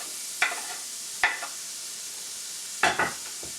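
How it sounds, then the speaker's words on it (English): Chopped onion sautés in butter in a pan: a soft, steady sizzle broken by several sharp scraping stirs. "Now I'm going to add my onion and saute it."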